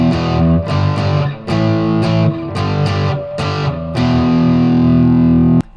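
A loud, heavily distorted electric guitar chugs through a riff of repeated power chords, with sharp attacks and a final sustained chord that cuts off abruptly.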